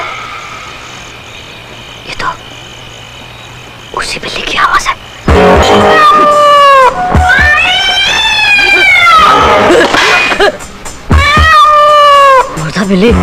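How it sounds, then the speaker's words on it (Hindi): A cat meows and yowls in long, wavering, drawn-out cries, loud and close, in several bursts with short pauses, over a faint background hum with a few knocks. "ये तो उसी बिल्ली की आवाज है"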